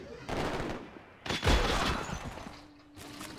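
Video game artillery bombards infantry: bursts of rapid gunfire and explosive booms arrive in two heavy volleys, loud and close, with a quieter rattle trailing after.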